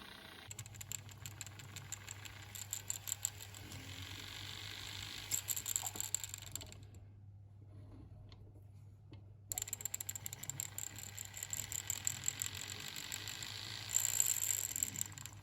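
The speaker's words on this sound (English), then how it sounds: "I am removing excess material with a cylinder burr." A small rotary tool spins a cylinder burr against a gold ring, a thin high whirring grind with steady buzzing underneath, briefly dropping out mid-way before resuming, close and moderately quiet.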